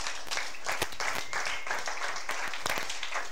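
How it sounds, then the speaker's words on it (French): A congregation at a French-language church sermon applauds, a dense patter of many hands clapping steadily for a few seconds with no clear voices over it. "Est-ce que vous pouvez vous acclamer vous-même d'abord?"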